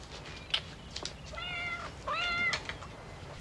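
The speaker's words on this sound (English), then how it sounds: "You know what this movie needs? More cat noises." A cat in the horror film Uninvited gives two drawn-out meows, one after the other, fairly clear over a quiet background hiss, with a couple of faint clicks before them.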